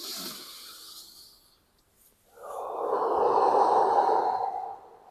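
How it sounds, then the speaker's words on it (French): A slow, deep breath drawn in through the nose, a close, loud airy inhalation swelling for about three seconds after a fainter earlier exhale. "Tu respires profondément. Donc j'inspire par le nez."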